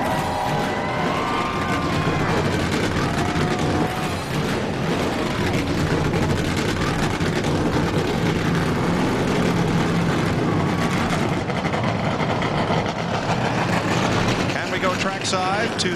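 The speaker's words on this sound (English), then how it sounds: "Gentlemen, start your engines." Many race car engines start and roar together at Sonoma in a dense, continuous wall of noise, with a crowd and voices mixed underneath.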